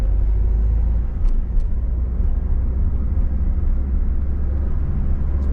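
A car, driven by a learner on a practice run at an intersection, gives a steady low engine rumble as it accelerates, with no talking.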